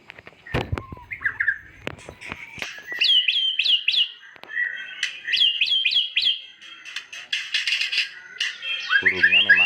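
A pet bird, recovered from a cough, sings in bright chirps and whistled trills, repeating phrases in clusters with short pauses, fairly close, with a few clicks and thumps and a low background hum near the end.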